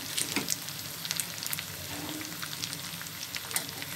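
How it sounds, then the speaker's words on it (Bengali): Spicy pasta tossed with pasta masala in a frying pan gives a close, steady sizzle, with sharp scraping clicks from a spoon at irregular intervals and no voices. "দিয়ে আমি আরেকটু নেড়ে চেড়ে পাস্তাটাকে নামিয়ে নেব।"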